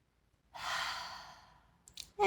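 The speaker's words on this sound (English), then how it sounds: "And then inhale," One slow, deep breath during a chakra-focused yoga session, a soft airy rush that swells and fades over about a second, close and quiet, with faint rustling after.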